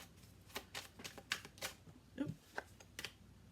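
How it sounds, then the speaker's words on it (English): Tarot cards being shuffled by hand at close range, a series of crisp riffling bursts in an uneven rhythm, with a brief murmured exclamation partway through. "And do 2 more shuffles."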